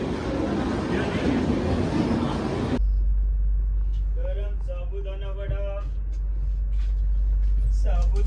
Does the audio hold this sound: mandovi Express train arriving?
yes